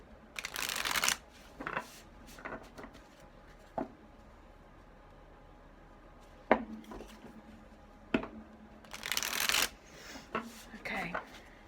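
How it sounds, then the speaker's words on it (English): Tarot cards are shuffled in close, soft rustling bursts separated by quiet pauses, with a few sharper taps and flicks as the deck is handled. "I shuffle however long I'm guided to do so."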